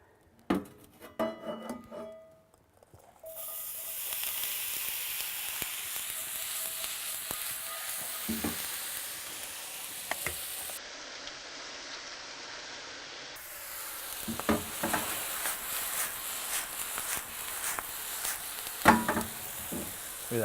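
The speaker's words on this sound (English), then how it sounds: "We're gonna get this pan super hot on the coals and we're gonna blister our cranberries." Cranberries blistering in a very hot pan over wood coals, a steady sizzle starting after a few clanks, with occasional stirring and pan scrapes, close and continuous, no talk.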